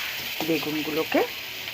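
Spice masala frying in oil for eggplant bharta, cooked until the oil separates: a continuous soft sizzle with a brief tonal, voice-like warble partway through.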